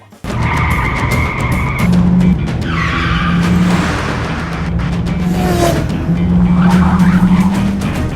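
Fast-driving car with repeated tire squeals and skids over a loud, continuous engine roar, several screeching bursts close by with no talking.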